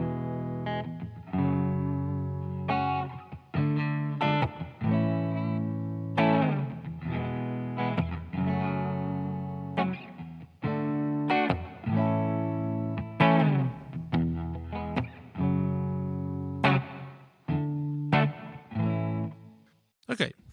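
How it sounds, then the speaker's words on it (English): Clean electric guitar played through a Jackson Audio Bloom compressor, Jackson Audio Prism preamp and an ACS1 set to a dual Fender Deluxe Reverb sound, picked chords and notes ringing with a gentle reverb tail, close and alone. "for my clean sound, I have the Jackson Audio Bloom into the Jackson Audio Prism preamp pedal into the Worst Audio ACS1 with a dual Fender Deluxe reverb sound"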